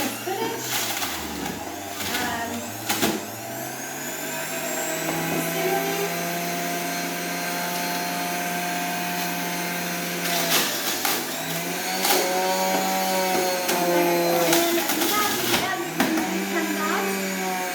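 An electric juicer grinds spinach for green juice, a loud continuous motor whine whose pitch dips and rises as leaves are pushed through, close and steady throughout, with a voice talking over it at times.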